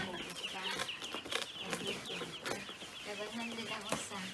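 Chickens on a poultry farm cluck and peep in a busy, moderately close flock, with scattered calls and faint rooster-like notes throughout.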